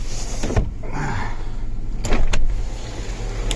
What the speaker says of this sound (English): Sunroof works great.